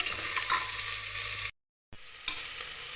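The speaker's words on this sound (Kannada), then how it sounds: "ಕರ್ಬೇವಿನ ಸೊಪ್ಪು, ಸಣ್ಣಗೆ ಹೆಚ್ಚಿದಂಥ ಈರುಳ್ಳಿ ಚೆನ್ನಾಗಿ ಫ್ರೈ ಆಗಬೇಕು." Chopped onion and curry leaves sizzle and crackle steadily in a hot pan, with a brief silent gap before the frying resumes.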